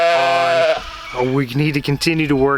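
Farm sheep give a loud, close, wavering bleat, then a second run of shorter bleats follows.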